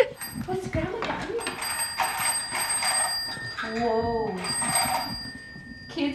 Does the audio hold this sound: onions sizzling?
no